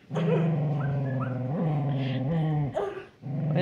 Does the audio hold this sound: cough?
no